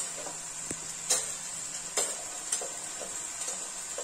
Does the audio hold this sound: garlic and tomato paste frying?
yes